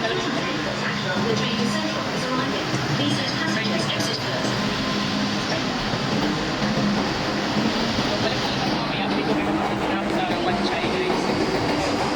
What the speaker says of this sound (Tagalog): So, isang sakay pa ng train.